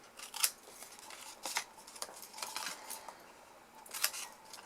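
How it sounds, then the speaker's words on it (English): Scissors cutting wedges out of the corners of a cardboard candle box lid, a few crisp close snips spaced irregularly over quiet room tone, no talking. "We're going to do exactly the same again here, just cut out those wedges on the corners."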